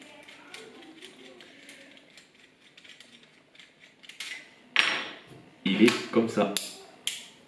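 A GoPro HERO8's folding mount is handled, giving quiet fumbling early and then a cluster of sharp plastic clicks and snaps near the end, with someone speaking French briefly.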